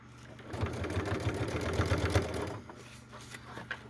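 Sewing machine stitching through the layered seams of a Batman-inspired Vixen bag, a steady mechanical whir running for about two seconds before easing off, fairly close and alone.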